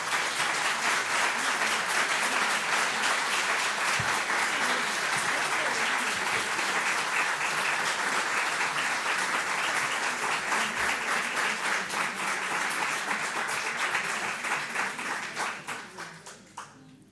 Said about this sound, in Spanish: Yo no aplaudo porque suene mucho aquí, pero me sumo al aplauso.